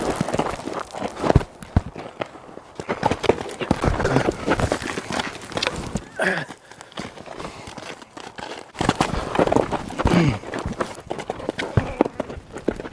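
A large, sometimes threatening horse moving on its hooves, giving irregular clip-clop steps and scuffing that run close and fairly loud through the whole stretch, with a brief quieter patch midway.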